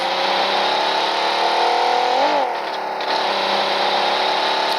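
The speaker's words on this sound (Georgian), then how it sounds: "მანქანები აქ." Car engines hum and drone in the PUBG Mobile video game, a steady mid-pitched motor tone that briefly bends in pitch and dips midway before resuming, fairly loud throughout.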